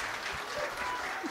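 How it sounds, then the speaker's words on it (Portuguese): A short burst of audience clapping for a translator at a hypnosis stage show, moderately distant and steady, with faint voices mixed in. "Uma salva de palmas à nossa tradutora."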